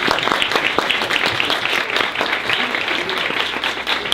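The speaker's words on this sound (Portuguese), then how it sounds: "pedir uma salva de palmas para vocês mesmos." An audience of students honored for a mathematics olympiad applauds themselves, with steady, dense clapping from many hands continuing evenly throughout, fairly close and loud.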